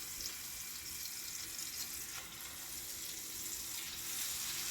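Steady broadband sizzling hiss of seasoned speckled trout fillets frying in butter in a hot pan, continuous and fairly even throughout with no voices.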